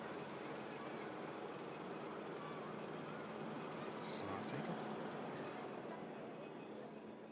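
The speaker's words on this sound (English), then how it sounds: "Scandinavian Neo rotating over on the second runway, runway 23 left" A Scandinavian A320neo airliner takes off on runway 23 left, a distant, steady broadband engine roar that swells slightly midway.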